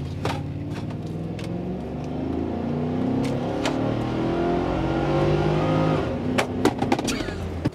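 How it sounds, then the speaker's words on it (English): Chevrolet Trailblazer SS with a swapped intake and no torque converter launched at full throttle for a 0-50 run, engine roaring loud and close with rising harmonics through the gear, a few sharp pops near the end. "Now I'm just gonna go ahead and floor it because this thing has no converter."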